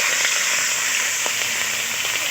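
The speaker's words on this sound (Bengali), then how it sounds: "চিংড়িগুলো দিয়ে দিচ্ছি" Shrimp fry in hot oil in a kadai wok, giving a loud, steady, close sizzle with a few faint stirring clicks.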